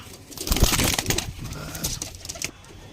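Chennai pigeons being let out from their loft, with several soft coos and a burst of wing flapping close by, the busy fluttering fading after about two and a half seconds.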